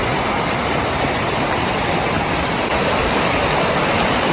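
A clear river stream flows in a dense, unbroken rush of water that stays steady and fairly loud throughout, with no voices over it.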